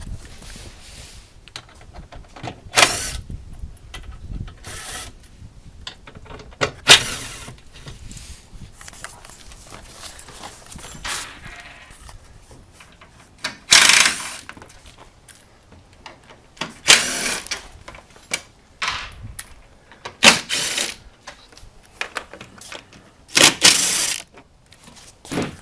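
A power driver with a Torx T30 bit backing out bumper fasteners on a Ram Promaster van, giving repeated short whirring bursts separated by pauses, close and moderately loud.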